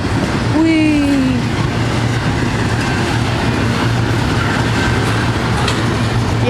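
A long Norfolk Southern intermodal freight train passing southbound at Cooke Road makes a continuous loud rumble, with a brief horn-like tone near the start and someone speaking over it.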